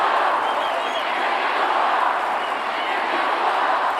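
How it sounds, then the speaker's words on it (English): Crowd noise at a taekwondo match: a steady, dense roar of spectators that fills the whole stretch at even loudness, with no single voice standing out. "Let's have a listen to the crowd."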